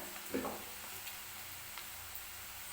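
Onion fries in oil with a pinch of salt in a pan for pav bhaji, giving off a soft, steady sizzle with a brief stirring scrape near the start and faint ticks.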